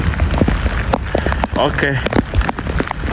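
Rain falls steadily during a hike up Mount Sumbing, on the trail toward the third post, a constant patter under a person talking, with footsteps and rustling mixed in.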